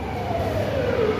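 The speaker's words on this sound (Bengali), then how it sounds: "চলে আসলাম মেট্রো রেল প্ল্যাটফর্মে।" Metro train at the Karwan Bazar platform in Dhaka hums and rumbles for a second, a rising-then-falling whine of the railcar riding over a low mechanical drone, close and steady.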